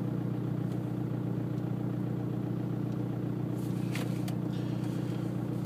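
A diesel car engine idles nearby with a steady low rumble, and a few faint clicks and rattles appear near the end.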